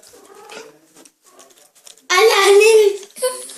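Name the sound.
cat meowing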